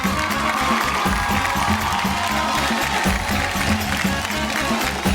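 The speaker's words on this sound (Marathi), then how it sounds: "जोरदार टाळ्या." A studio audience at a Marathi television game show bursts into loud, dense applause that holds steady throughout, with no pauses, over some faint crowd voices.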